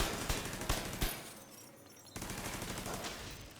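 A deployed turret in The Division 2 fires rapid bursts of gunfire, loud and close, with a brief lull before the shooting resumes at full intensity.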